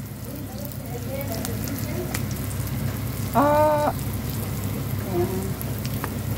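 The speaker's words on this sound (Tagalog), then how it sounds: "Tapos, ito, ketchup. Konti lang. Ayan. Igisa-gisa natin ito." Food with cubes and a little ketchup sautéing in a home kitchen pan, a steady close sizzle running throughout while someone speaks briefly over it.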